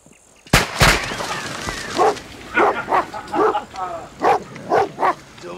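An old dog barks in a series of short, evenly spaced woofs and yips after a sharp opening thump, fairly close, with faint speech-like sounds mixed in.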